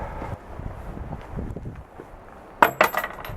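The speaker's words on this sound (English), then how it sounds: "drop in your money" Coins dropped into an offering box at Todaiji Temple in Nara, a few bright metallic clinks and rattles arriving near the end after quiet shuffling and ambient noise.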